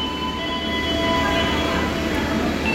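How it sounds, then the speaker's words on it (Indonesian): The Majapahit long-distance passenger train pulls into the station at Kediri with a steady, loud rumble of rolling stock and faint high metallic whines from the wheels, continuous throughout with no talk. "Dan keretanya sudah sampai di sini."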